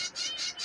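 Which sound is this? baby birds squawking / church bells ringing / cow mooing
baby birds squawking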